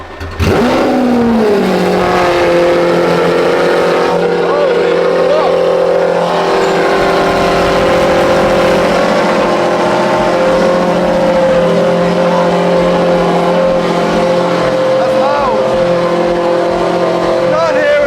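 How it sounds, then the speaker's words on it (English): A Lamborghini cold start: the engine catches with a sharp rise, then settles into a loud, steady high idle held for many seconds, close by, with people talking over it. "we're going to get the Lamborghini, and Mark insisted that we hear the cold start"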